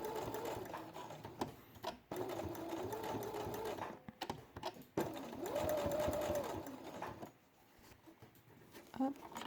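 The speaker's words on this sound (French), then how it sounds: "je viens piquer au point droit ici et à 1 mm du bord" A sewing machine runs a straight stitch through felt in several bursts, close and fairly quiet, pausing briefly between runs.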